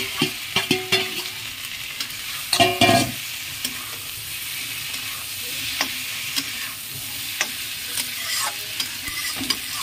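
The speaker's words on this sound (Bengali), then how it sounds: "মাছের সাথে আরো 5 মিনিট আমি কষিয়ে নেব" Shol ting fish sautéing in spicy red masala in a pan, a constant close sizzle with bursts of spatula scraping and stirring clatter, busiest early on and recurring later.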